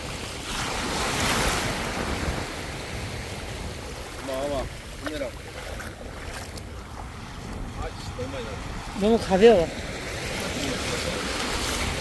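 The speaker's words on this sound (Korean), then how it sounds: "바람이 이쪽으로 분다." Wind gusts and rolling ocean surf at Dadaepo beach in Busan, a steady broad roar of waves with buffeting wind noise on the microphone, and a few faint voices in the background.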